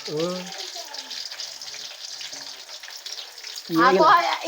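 Steady hiss of frying in hot oil, a bed of fine bubbling sizzle running throughout, with a voice speaking briefly at the start and end.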